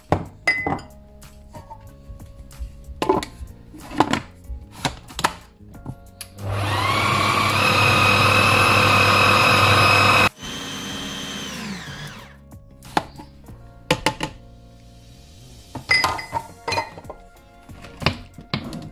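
A food processor whirs loudly and steadily for about four seconds as it mixes fish dough with sago flour, framed by clinking bowls, utensils and kitchen handling noises.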